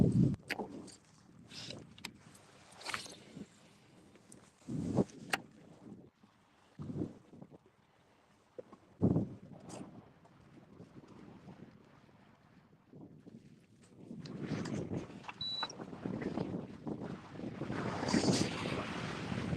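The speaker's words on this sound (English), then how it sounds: "We're definitely still in the wind." Wind buffets a boat out on Lake Lanier, with gusty rumbling microphone noise and water sloshing, uneven and close, building louder toward the end.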